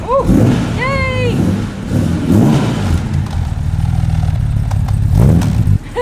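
A classic Aston Martin DB4 GT engine idling and revving up close inside a garage, with short whoops and voices heard over its rumbling.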